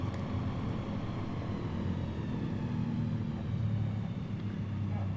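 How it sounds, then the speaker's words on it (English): Piper Cub light aircraft engine idling while taxiing to runway 29 at Truckee in Microsoft Flight Simulator 2020, a low, steady, fairly quiet drone with no break throughout. "Cub is taxiing runway 29"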